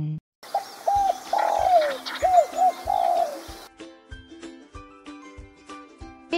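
A pigeon coos in several soft, rolling notes over about three seconds, close and distinct. Light chiming music carries on underneath and continues alone afterward.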